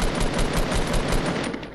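Rapid automatic gunfire in the Fortnite video game, a dense, loud stream of shots lasting under two seconds.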